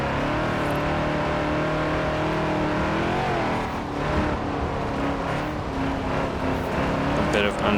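A stock 1973 Ford XB Falcon GT engine drones steadily in Forza Horizon 4, holding a sustained rumble with shifting revs throughout and a few higher-pitched squeals near the end.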